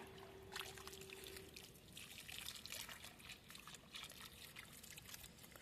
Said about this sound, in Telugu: సరే, ఇప్పుడు వాటర్ పోసేస్తాం.